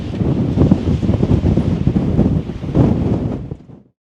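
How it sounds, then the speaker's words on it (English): Strong wind buffets the microphone in loud, rough gusts for a few seconds before cutting off. "That's gonna be some pretty high winds"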